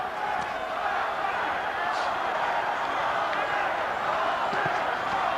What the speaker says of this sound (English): Crowd chanting for their man, De La Hoya.